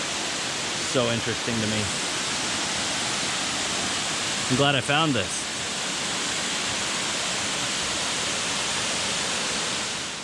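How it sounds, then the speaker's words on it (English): Steady, loud rushing of a waterfall at Palenque, Mexico fills the air throughout, a constant broad roar with a person speaking briefly over it. "these hidden gems like these waterfalls"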